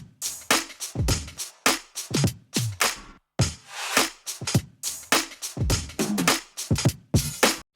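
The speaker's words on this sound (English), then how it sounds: "So I added a bunch of loops that I bounced out from one of my really, really old funk instrumentals." Funk drum loops bounced from an old instrumental play alone: punchy kicks and snares in a steady groove with busy hi-hats, offbeat toms and fills, loud and close.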